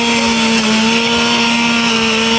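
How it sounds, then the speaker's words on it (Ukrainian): Petrol chainsaws at a forestry workers' lumberjack competition, a loud continuous high-revving buzz with a steady engine tone, close and unbroken with no talking. "Бриніли бензопилами лісівники не дарма."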